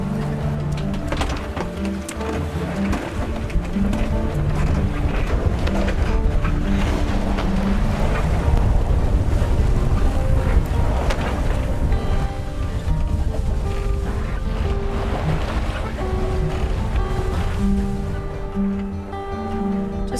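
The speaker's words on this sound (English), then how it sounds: "Today we've got enough breeze just to sail, so engines off and sails are, you know, doing the business." A sailboat cruises under sail on open sea toward Guernsey with its engines off. Continuous wind and water rush against the hull, with creaks and rigging knocks scattered throughout, and no voices.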